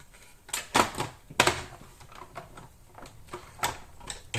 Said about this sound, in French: on vient enlever ici les rubans et les remplacer par les nouveaux en faisant cheminer le ruban